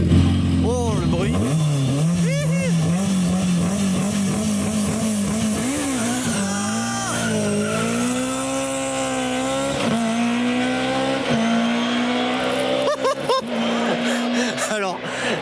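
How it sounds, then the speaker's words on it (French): A rally car, a BMW E30 running in class A8 at the Rallye Picodon, gives a loud, steady engine drone with shifting pitch and gearbox whine, continuous throughout, while people talk over it. "déjà juste le bruit de la voiture"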